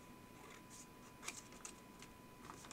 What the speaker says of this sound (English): let me go ahead and just cut these apart